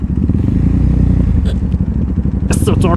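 A motorcycle in Japan is being parked, its engine running with a low, steady throb before sharp clattering and scraping knocks near the end.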